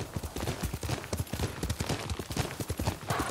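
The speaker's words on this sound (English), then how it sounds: "Yuriko's horse." A horse's hooves clip-clop at a steady, quick rhythm in the game Ghost of Tsushima, a moderately quiet run of even hoofbeats throughout.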